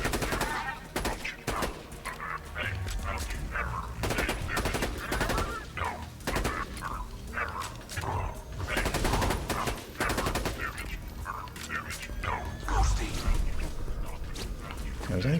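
Rapid bursts of gunfire as loaders are shot in Borderlands 2, on the Ultimate Vault Hunter difficulty, with the character Zer0 using a Butcher shotgun: dense, repeated close shots in volleys throughout, with a voice talking over them.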